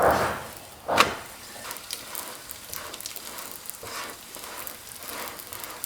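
Homemade layered flatbread fries in a pan with a soft, steady sizzle, punctuated by a couple of sharp bursts early on as the dough is turned, then settling into quieter crackling.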